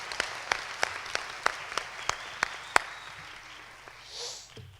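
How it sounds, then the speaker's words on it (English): Scattered, distinct hand claps from a small group at a school Middle Years Programme awards ceremony honoring certificate recipients and student presenters; about ten sharp, evenly spaced claps in the first three seconds, then quiet. "one last applause for all of our MYP certificate recipients"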